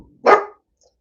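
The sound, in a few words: dog barking at people passing by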